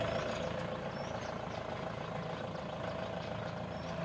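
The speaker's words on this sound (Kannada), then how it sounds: "ಗಾಡಿ ಸೌಂಡ್ ಕೂಡ ನೀವು ಇಲ್ಲಿ ಕೇಳ್ಬೋದು, ಎಷ್ಟು ಸ್ಮೂತ್ ಆಗಿದೆ ಅಂತ ನೋಡ್ರಿ." A Mahindra LoadKing Zoom tipper truck engine running at idle, a steady, even diesel hum that stays constant at moderate distance without revving, with no speech over it.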